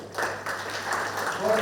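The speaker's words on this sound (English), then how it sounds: "So they really deserve a loud applause" Short burst of audience applause in a hall at a soil science society's annual convention valedictory function, steady clapping at moderate volume with a low constant hum underneath.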